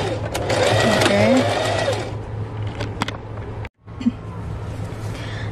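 A sewing machine stitches a mermaid skirt, a close, fast, steady whirring run that slows, pauses briefly, then resumes in short bursts.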